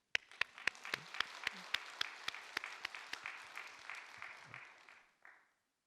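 A church congregation in Seoul applauds during a Sunday service, with a steady crowd of clapping under one loud rhythmic clapper at the front, building briefly and then fading out after about five seconds.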